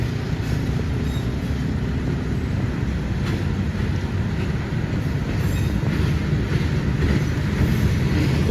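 An executive passenger train on a Gambir–Malang route rumbles past at close range, a dense continuous low roar of wheels on rails with faint squealing and clatter, steady and loud throughout with no talk.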